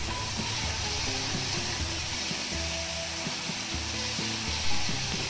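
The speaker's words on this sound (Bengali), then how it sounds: "প্রথমে সামান্য পরিমাণে সরষের তেল অ্যাড করে চিংড়িগুলো আমি ভেজে নেব" Shrimp fry in hot mustard oil in a wok, giving a steady, close, hissing sizzle that holds evenly throughout with faint kitchen hum beneath.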